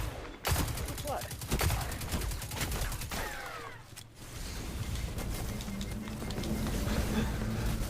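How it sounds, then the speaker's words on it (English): Machine gun fire in the Destiny 2 beta, rapid dense bursts of automatic shots close up with other gunfire around, and a voice talking over it. "Love this machine gun though."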